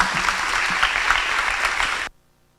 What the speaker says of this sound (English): Ladies and gentlemen, another round of applause for Kamran Sheikh.